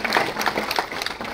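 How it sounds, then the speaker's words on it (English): Audience applause at a university graduation ceremony, a dense, steady patter of many hands clapping in a large hall, fairly loud with no speech over it. "A big round of applause, ladies and gentlemen, for our distinguished guests, Ambassador Ahmed Suleh"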